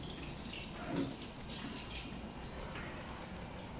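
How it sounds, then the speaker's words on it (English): Hands are washed with soap under running water from a tap, a steady soft splashing and rushing that holds throughout at low level, with faint wet rubbing on top. "First, wash your hands for 20 seconds using soap."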